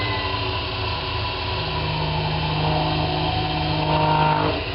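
A lathe spins while turning a cork fishing rod handle, giving a steady, loud motor whine with humming tonal lines that holds for several seconds before pitching down at the end. No one speaks.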